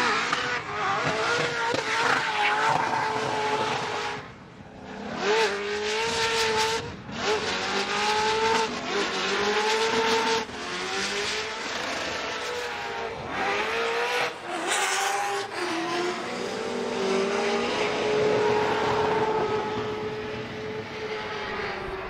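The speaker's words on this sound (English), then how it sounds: "listen to Trenton Beecham Clonex, this LS powered BMW." LS V8-powered BMW drift car at a Formula DRIFT pro competition in Utah, engine screaming and bouncing off the limiter with long tire squeal, loud and continuous across the run with crowd and track ambience.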